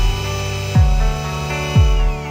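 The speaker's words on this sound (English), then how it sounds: "drill the holes" A power drill bores holes for a shower installation plate, a steady whirring motor with two short pitch drops as the bit bites and the tool revs back up.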